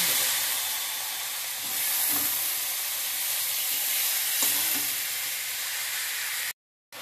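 Squeezed ash gourd dropped into hot oil with cumin and chilli, giving a loud, bright, continuous hiss and sizzle that swells in waves with a few soft stirring bumps, then cuts off abruptly at the end.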